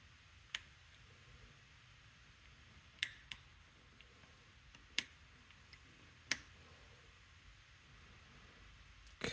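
Sparse faint clicks from a Rosengrens 32A81 safe lock being picked, a handful of isolated ticks spaced seconds apart over a quiet background.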